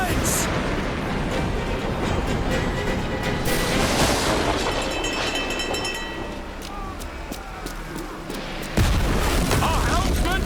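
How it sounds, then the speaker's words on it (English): Sailing-ship cannons fire during a naval battle in Assassin's Creed Black Flag, heavy booms layered over a dense, loud roar of wind, sea and battle noise, with crew voices shouting throughout. "Man the cannons!"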